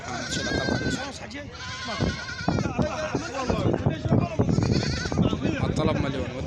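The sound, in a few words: sheep bleating at a livestock market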